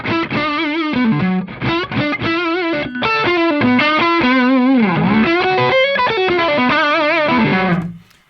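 Electric guitar played through Tube Screamer and Klon overdrive pedals stacked together, a loud, continuous distorted lead line with sustained, bending notes ringing out alone until it cuts off at the end.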